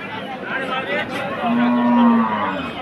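A large dairy cow at an open-air cattle market at Choumuhani gives a single drawn-out, steady moo, close and loud, over a murmur of crowd chatter and voices.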